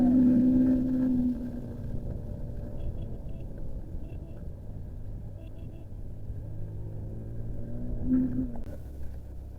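A 125cc motorbike labouring up a rough, broken mountain road in Bandarban during the monsoon, its engine a steady low rumbling drone with a wavering tone, close and continuous throughout.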